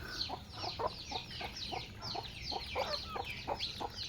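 A red rooster among free-ranging village chickens clucks in a quick series of short, faint calls at a steady rhythm, with other hens chattering softly in the background.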